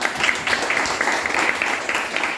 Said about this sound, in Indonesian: beri tepuk tangan untuk Bella